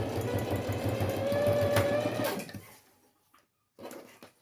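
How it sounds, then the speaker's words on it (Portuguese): Sewing machine stitching fabric for a school pencil case, a loud steady whirring run of close stitching that stops partway, followed by quiet and a brief burst of handling noise. "Costurei aqui, vamos costurar a outra."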